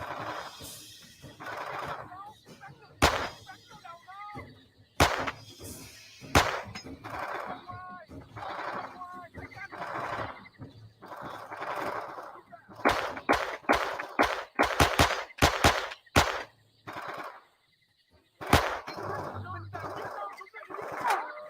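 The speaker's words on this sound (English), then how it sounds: "it's so weird that you can snipe with the machine gun." Machine gun fire in the Vietnam War shooter Men of Valor, sharp bursts and single cracks scattered between stretches of talk and game sounds, louder clusters of rapid shots near the middle.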